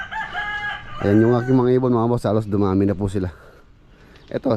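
Farm birds raised in enclosures call with rooster-like crowing, the harmonic cries loud and close while someone talks over them.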